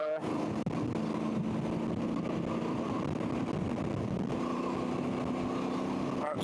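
A Voge DS800X Rally motorcycle cruises in sixth gear at about 55 mph and 3,000 rpm, giving a steady low engine drone mixed with road and wind noise throughout, with no break in the sound.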